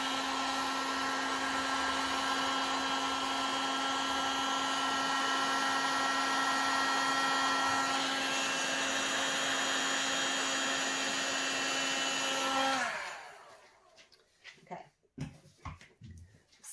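A blower running on high sends a loud, steady whine across thick poured resin for about twelve seconds before cutting off. Softer knocks and handling noises follow once it stops.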